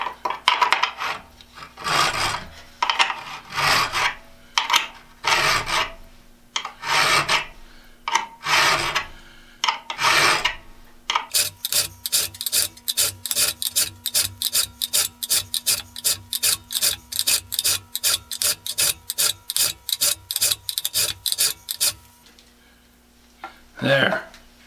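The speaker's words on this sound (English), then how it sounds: "I can use this finer file and just dress that edge." Close, rapid back-and-forth rasping of a fine metal file dressing the cutting edge of an Irwin-Jennings style auger bit, first in slower separate bursts, then a fast steady run of short regular strokes.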